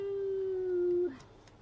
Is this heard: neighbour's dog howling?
yes